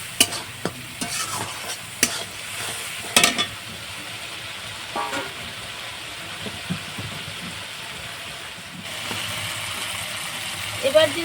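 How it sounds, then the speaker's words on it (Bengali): Ground cumin, coriander, salt and turmeric fry in a pan for a bamboo shoot and chicken dish, with a steady close sizzle and occasional spoon taps and scrapes; soft background noise runs throughout, with no clear talking. "এবার আমি এখানে জিরে গুঁড়ো, ধনে গুঁড়ো, লবণ আর হলুদ এটা আমি দিয়ে দিচ্ছি"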